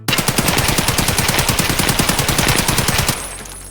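A loud AK rifle with 7.62x39 PS rounds fires a fast, unbroken full-auto burst for about three seconds in a shooter game, then cuts off into a fading echo.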